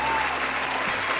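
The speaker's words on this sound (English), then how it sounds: "Ladies and gentlemen, clap it up, clap it up." An audience claps steadily in a brief, dense burst of applause, with a voice faintly audible underneath.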